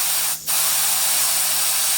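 Air hisses steadily out of a lawn mower tire as it is deflated, a loud, continuous rush broken by one brief dip near the start.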